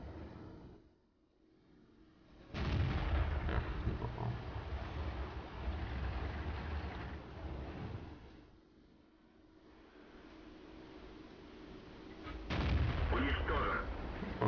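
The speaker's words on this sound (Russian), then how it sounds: "Давайте постреляем." Tank cannon fire in the World of Tanks video game, heard as two heavy booming shots several seconds apart, each with a long rumbling decay, amid low game ambience and some talk.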